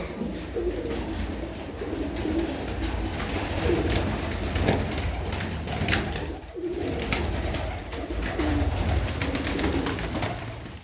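Pigeons coo steadily in a room kept for a pigeon hobby, including blue pigeons, with a continuous dense backdrop of overlapping bird calls and soft rustling throughout, no voices.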